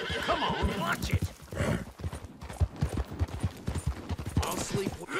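Horse neighing and galloping in Red Dead Redemption 2, a whinny followed by quick clip-clop hoofbeats close by, with gunfire and voices mixed in.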